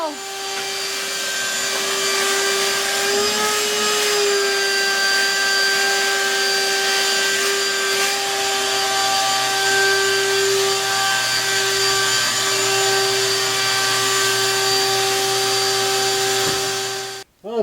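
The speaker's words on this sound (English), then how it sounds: "I do know how to run a vacuum." A vacuum cleaner runs steadily inside a 1964 Impala, a loud continuous motor whine with a strong tonal hum that holds for the whole stretch and cuts off abruptly at the end.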